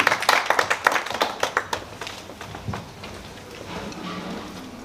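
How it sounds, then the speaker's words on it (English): Conference audience at a farmers' event claps, a burst of loud, distinct hand claps that thins out after about two seconds into quieter scattered applause and room noise. "let's give him a round of applause as he comes in"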